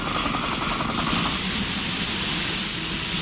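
A UH-1D Huey military helicopter drones steadily and loudly throughout, its engine and rotor roar forming a dense, continuous wash with no voices.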